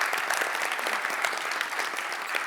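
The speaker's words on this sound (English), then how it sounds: "I would like to have a special round of applause for Hendrika and her team from Sky Planners." Audience applause at the closing session of an off-grid solar forum and expo, honouring the event organizers; steady, dense clapping from a large crowd fills the whole stretch at an even level with no voices.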